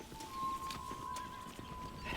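A horse summoned in the Red Dead Redemption video game, heard as faint clip-clop hoofbeats and a soft neigh over a steady in-game hum, with no voices.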